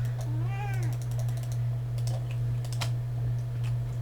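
A cat gives a single short meow near the start, faint under the steady clatter of computer keyboard typing and a constant low electrical hum.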